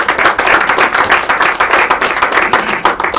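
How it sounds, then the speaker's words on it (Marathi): Loud audience applause at a movie song launch event, brisk rhythmic clapping from many hands sustained throughout with a lively pulsing beat. "विजय पाटकर सरांसाठी जोरदार टाळ्या."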